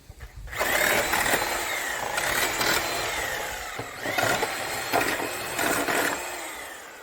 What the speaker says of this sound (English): just go in and actually cut all of the nails that are holding these on